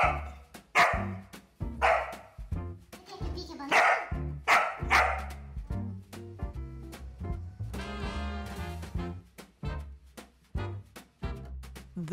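A dog barks repeatedly in short, loud bursts with yips in between, close to the microphone, over a busy background of music-like tones and other sounds.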